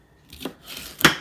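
Chili pepper being sliced in a home kitchen, two short crisp cuts about half a second apart, close and clear with no talking.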